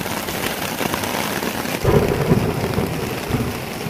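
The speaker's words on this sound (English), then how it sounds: "A little thunder rolling in this time." Thunder rolls overhead with a low swelling rumble over steady rain falling nearby, at a gorge campsite.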